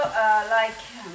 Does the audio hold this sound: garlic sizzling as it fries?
yes